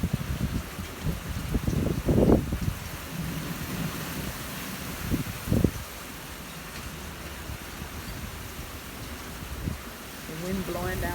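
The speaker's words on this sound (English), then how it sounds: "but it is raining." Steady rain and gusting wind outdoors during a tornado warning in New Orleans East, a continuous wash of noise with a few louder low rumbles and bumps near the start.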